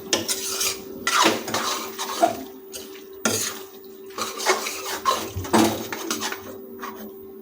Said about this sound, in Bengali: মটর যোগ করার পর আমরা এটাকে তিন মিনিট মতো কষিয়ে রেখে দিই